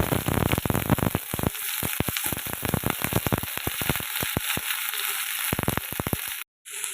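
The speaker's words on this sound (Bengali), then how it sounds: "এবার আমি ঝিঙেগুলো কড়াইতে ছেড়ে দিয়েছি" Ridge gourd pieces fry in a hot wok after a tempering of nigella seeds and green chilli, giving a steady loud sizzle broken by crackling bursts and stirring scrapes, then a brief cut to silence near the end.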